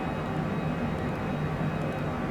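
Cessna Longitude business jet in a flight simulator game, on descent toward Sydney, giving a steady, loud, continuous engine and cabin drone with a low rumble that holds unchanged throughout, with no talk.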